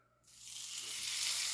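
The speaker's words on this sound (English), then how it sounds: "Listen to that sizzle." Quarter cup of butter sizzling in a hot pan on a smoking stovetop element, a steady bright hiss that swells quickly after a quiet start and stays loud and close.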